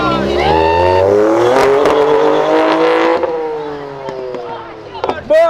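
A Nissan GT-R accelerates hard through its gears, the loud, close engine note climbing and dropping at each shift while people shout excitedly over it.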